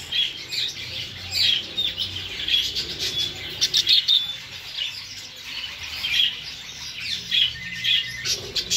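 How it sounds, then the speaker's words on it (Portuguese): Male budgerigars (English parakeets) in a pet and farm supply shop keep up dense, busy chirping and twittering with occasional squawks, a continuous chorus at moderate volume. "Machos de periquito inglês."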